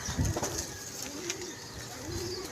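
Pigeons coo softly at a loft, a few low rolling calls repeating over faint background noise, with no talking.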